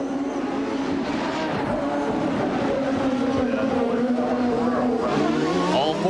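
IndyCar race cars at the Long Beach Grand Prix roar past on the street circuit, engines droning steadily with rising and falling pitch, loud and continuous beneath a commentator's voice.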